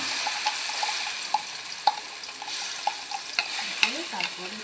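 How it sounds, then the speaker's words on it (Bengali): Spice paste for a vegetarian potol dorma fries in a hot wok, giving a steady sizzle broken by sharp scraping stir strokes and occasional clinks of the spatula throughout. "তাহলে এবার আমি এই পেস্টটাকে দিয়ে দেবো কড়াইয়ের মধ্যে।"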